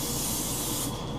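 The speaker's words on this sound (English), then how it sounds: "I'm going to spray" Spray can laying down a coating in one close pass, a loud, steady aerosol hiss heard alone that tapers slightly toward the end of a short burst.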